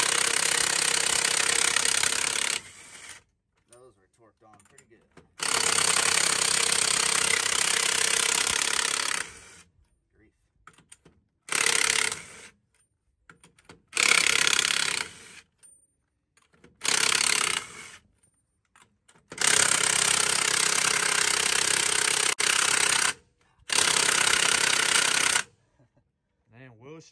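Power impact tool removing tightly torqued bolts on a Ford F150, loud rattling bursts of hammering several seconds long, repeated about seven times with quiet gaps between, close up.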